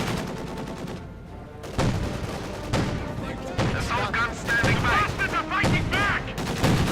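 Gunfire and mortar-attack combat in Company of Heroes 2, with repeated bursts of shots and impacts across a busy battlefield mix, loud and dense, with some chirping effects layered between volleys.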